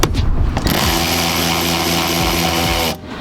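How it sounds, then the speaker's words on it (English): A loud power tool whirs steadily for a couple of seconds after a brief start, then cuts off abruptly, loosening a 10mm bolt on a 2022 car during a sidemarker install. "I use power tools, makes it a lot easier"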